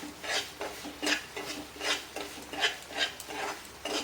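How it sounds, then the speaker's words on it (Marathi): Semolina (rava) is stirred and roasted in a pan over low heat, with a spoon scraping the pan in a steady rhythm of soft, close swishes about twice a second and no voices. "हा रवा आपण मंद गॅसवर थोडासा लालसर असा भाजून घेणार आहोत"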